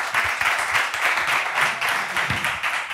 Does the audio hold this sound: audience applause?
yes